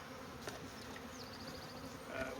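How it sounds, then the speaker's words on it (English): Faint buzzing of honey bees coming out with their queen, a low steady hum with an occasional insect whine passing close, no talking. "Still got all those bees in there, and they're coming out with the queen."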